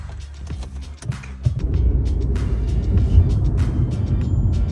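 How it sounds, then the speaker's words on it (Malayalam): A Volkswagen Polo is driven, starting with a muffled thump and idle before a steady, close engine-and-road rumble swells and holds, with no talking. "ഇതാ നമ്മുടെ പോളോയിൽ ഇതാ കയറി ഇരിക്കാൻ കേട്ടോ വണ്ടി അപ്പം ഡ്രൈവ് ചെയ്യാനായിട്ട് പോവുകയാണ്"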